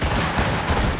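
Ship cannons firing in Assassin's Creed Rogue, a dense, loud one-second burst of booming broadside blasts that fill the whole range with rumbling, crackling noise and no pause.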